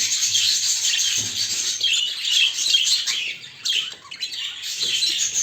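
A pet bird gives harsh, continuous squawks and scratchy calls while being handled up close, loud and raspy with brief rustling, no talking.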